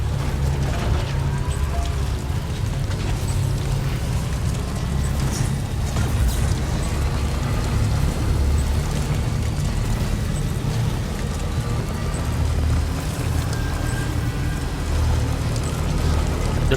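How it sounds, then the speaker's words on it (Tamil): Rain in Death Stranding 2 pours as a dense, constant hiss and patter with a low rumbling undertone, loud and unbroken throughout, with no voices. "மழை வேற வருதுங்க."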